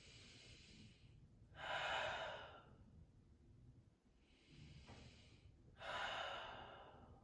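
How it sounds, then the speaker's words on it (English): Two slow, deep breaths taken while hanging in a forward-bend stretch, each a soft inhale followed by a longer airy exhale, close and quiet against a faint background hum. "Take a couple breaths."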